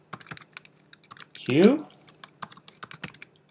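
Rapid clicking keystrokes on a computer keyboard while entering commands in a command-line interface, scattered taps throughout with a brief spoken word in the middle, fairly close and crisp.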